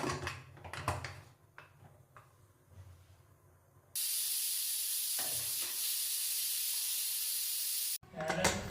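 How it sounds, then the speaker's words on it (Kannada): A steady, loud hiss of escaping steam from a pressure cooker whistle, cooking sprouted-legume sambar, starts abruptly and runs for about four seconds before cutting off, with kitchen clatter before and after. "ಕುಕ್ಕರ್ ಮುಚ್ಚಳ ಮುಚ್ಚಿ 1-2 ವಿಷಲ್ ಕೂಗಿಸ್ಕೊತೀನಿ"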